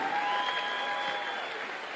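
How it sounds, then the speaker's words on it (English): Applause from a conference audience at a motivational talk, steady and fairly distant, with a faint sustained tone running beneath the clapping. "Get the old man a round of applause."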